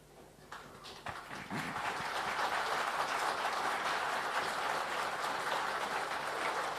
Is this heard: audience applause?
yes